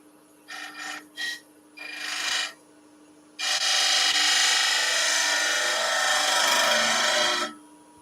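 A gouge cuts a wooden spindle on a lathe with its bevel rubbing, starting with three short scraping bursts, then a long steady rasping cut lasting several seconds before stopping. The sound is close and loud, with no talk.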